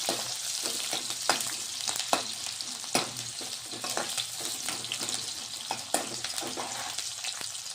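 Chopped onion fries steadily in a pan for a green pigeon pea chutney, a dense close sizzle broken by regular scraping stirs and light clinks of the spatula.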